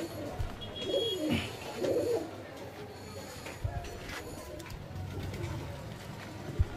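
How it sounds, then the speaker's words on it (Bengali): Pigeons coo in a loft, two low rolling coos close by early on, with soft rustling and occasional knocks around them and faint voices in the background. "বন্ধুরা এই পায়রাটা দেখো"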